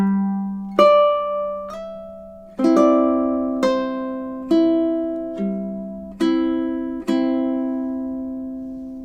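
Ukulele plays four measures of the Mexican folk song Cielito Lindo, with slow plucked chords and single notes, about eight clear attacks that ring and decay, close and solo with no talking.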